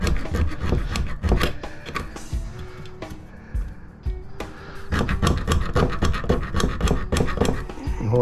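A metal hand file rasps across a half-copper, half-aluminum part salvaged from a commercial glass washer, giving repeated close scraping strokes with a brief lull midway.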